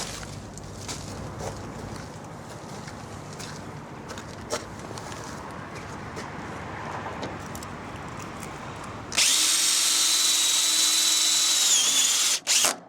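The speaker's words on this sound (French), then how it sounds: "Il y a juste à mettre les vis autoforeuses dessus pour fixer le rail." A power drill drives self-drilling screws to fix the guide rail of a sliding gate outdoors: quiet ambient scuffing and birds, then a loud, steady high whine lasting a few seconds before stopping briefly and restarting.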